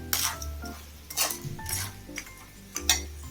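Crab pepper masala being stirred in a large pot, with a spoon scraping and clinking against the metal in a few separate bursts and a low background hum between them.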